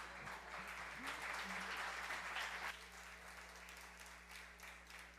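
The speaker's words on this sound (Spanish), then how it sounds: "Los dejo con Andrea, un aplauso." An audience at a tech meetup applauds for a few seconds, faint and somewhat distant over a steady electrical hum, with a brief voice sound early on and the clapping thinning after about three seconds.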